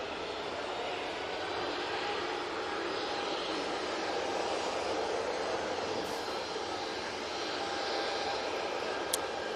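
An airliner taking off from Manchester Airport bound for Amsterdam, a continuous broad engine roar holding steady at moderate distance, no speech.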